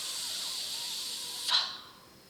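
A voice imitating the letter F sound, a steady breathy "fff" hiss held for about a second and a half, ending with a brief louder puff before fading into quiet.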